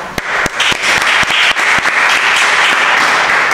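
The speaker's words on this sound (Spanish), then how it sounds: "Y un aplauso para Anastasia." Live audience applauding at an event, a loud, dense burst of clapping that carries steadily through the whole moment with no voices over it.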